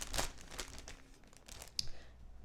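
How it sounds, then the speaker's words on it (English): Pork chops slid into a gallon-size resealable plastic bag, giving soft crinkling and rustling of the plastic in a few close, uneven bursts with a sharper crackle near the end. "getting a gallon resealable bag and placing your individual chops"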